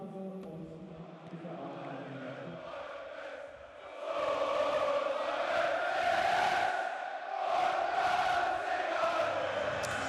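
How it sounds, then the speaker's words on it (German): Football fans at the Ludwigspark stadium for a 1. FC Saarbrücken home match against VfL Osnabrück, heard as a distant crowd murmur that swells at about four seconds into loud, sustained chanting and roaring from the stands. "So hört sich das an, wenn im Ludwigspark endlich wieder Fans im Stadion sind."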